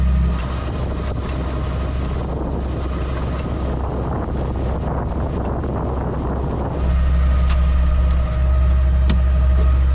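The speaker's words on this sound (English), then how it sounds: "The wind is there, 13 knots." Steady wind at sea on a sailboat at night, blowing around 13 knots, a continuous loud rushing roar with heavy low rumble throughout, shifting slightly in tone toward the end.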